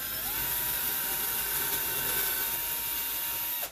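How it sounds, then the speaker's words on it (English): A power drill whines steadily, close and loud, while boring a hole for a cup hook in a wooden B&B sign, running continuously for several seconds before spinning down abruptly at the end. "drill straight up and down."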